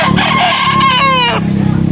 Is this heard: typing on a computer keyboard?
no